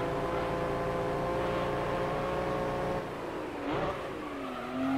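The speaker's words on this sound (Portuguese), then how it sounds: "vem derrapando de lado. Power slide aqui" A Nissan Skyline GT-R in Gran Turismo 3 power slides sideways during a race: loud steady engine drone with tire squeal rising through the slide, then the engine note shifting and climbing as it pulls out.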